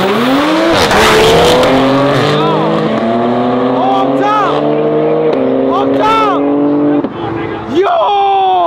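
Infiniti Q50 and Q30 cars street racing at night, loud and close, with engines revving hard and repeatedly climbing through gears over each other, then briefly dropping off before surging again.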